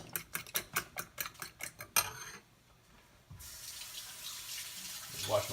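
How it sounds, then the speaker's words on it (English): Water runs from a tap into a sink as hands are rinsed off, a steady broadband rush that follows a run of quick rhythmic clatters and swells louder near the end. "Just wash my hands off."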